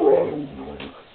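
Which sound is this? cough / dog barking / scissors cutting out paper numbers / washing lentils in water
dog barking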